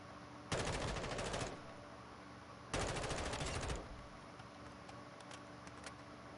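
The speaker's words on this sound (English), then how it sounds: "I just 3-round bursted you with an M4." Two loud bursts of M4 rifle fire in a video game, each about a second long, with a pause between them and quieter game ambience afterward.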